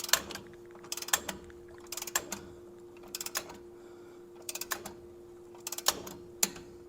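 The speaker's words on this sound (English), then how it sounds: "I'll adjust this down and torque it to 50" Torque wrench tightening a nut to 50 pounds on a Dana 44 axle crossover steering kit: short bursts of rapid ratchet clicks repeating about every second, close and fairly quiet.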